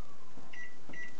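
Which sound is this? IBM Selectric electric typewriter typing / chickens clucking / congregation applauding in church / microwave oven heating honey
microwave oven heating honey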